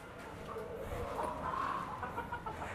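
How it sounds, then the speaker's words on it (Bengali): An agitated Kadaknath chicken, kept among rooftop fancy poultry, clucks in short, excited bursts close by, with some faint human voice mixed underneath. "ওই দেখেন আমার কাদাকটান মুরগি পাগল হয়ে গেছে"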